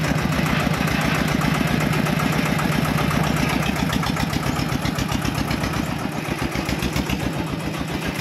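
A Thai E-taen farm vehicle from Mueang Phan, in ready-to-use condition, runs its engine at a steady idle. The loud, close, rhythmic chugging throb carries on without a break throughout.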